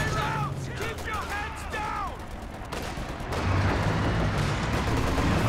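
Rapid machine gun bursts and scattered shots from a Company of Heroes 2 battle, with someone talking over the combat noise and a heavier rumble building toward the end.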